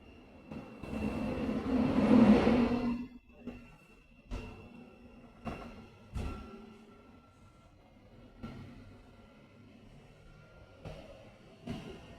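A Thameslink passenger train running from London Kings Cross toward Letchworth Garden City, heard from inside as a steady low rumble with a louder swell early on and occasional knocks and clunks over the rails.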